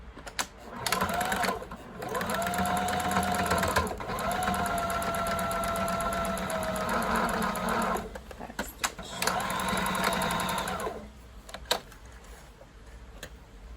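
Close, steady stitching from a sewing machine sewing a fitted fabric mask comes in long runs with a rising whir, broken by brief pauses and light clicks between passes.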